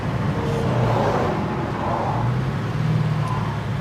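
A 1967 Ford Mustang on a hot-day test drive, its engine giving a steady low rumble mixed with road and wind noise, continuous and fairly loud from inside the car with no talking.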